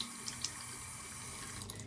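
Warm tap water flows steadily from a faucet into a sink while a makeup brush is wetted, a soft, continuous hiss with a few faint splashes and no talking.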